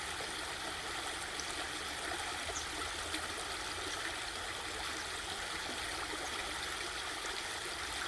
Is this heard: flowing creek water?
yes